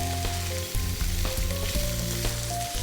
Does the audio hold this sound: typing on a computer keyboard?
no